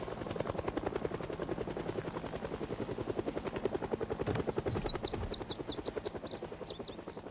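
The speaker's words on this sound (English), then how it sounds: "So that's a helicopter." A helicopter arriving in a survival video game makes a steady, rapid rotor thump that stays loud and close throughout, with high chirping sounds joining partway through.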